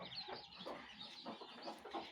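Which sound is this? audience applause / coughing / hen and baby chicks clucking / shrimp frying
hen and baby chicks clucking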